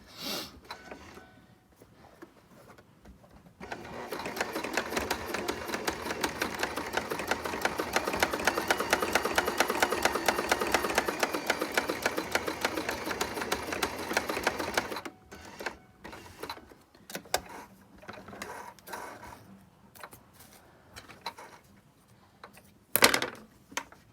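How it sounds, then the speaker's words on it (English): Sewing machine stitching along the edge of a fabric face mask with a filter pocket, a fast, even mechanical rattle running for about ten seconds, bracketed by quieter handling clicks and rustles. "you want to sew close to this edge over here"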